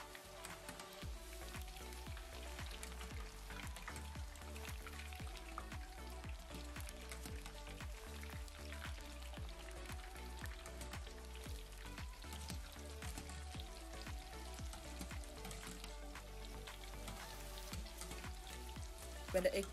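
Eggplant pieces frying in hot oil give a steady, dense crackle of fine popping and sizzling that runs unbroken through the whole stretch at a moderate level, with no voices.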